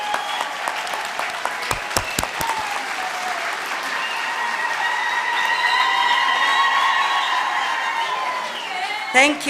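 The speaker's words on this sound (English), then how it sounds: "let's give them also that thunderous round of applause." Sustained applause from a large graduation ceremony crowd in Windhoek fills the room, loud and steady, with a few sharp claps standing out near the start.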